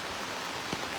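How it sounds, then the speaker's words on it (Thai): Steady rain falls continuously outdoors by the Nan River in Thailand on a windy morning, a soft, even hiss of drops with a brief faint thump partway through and no voices. "อันนี้ฝนยังตกต่อเนื่องตลอดเลยนะคะฝนตกตลอด"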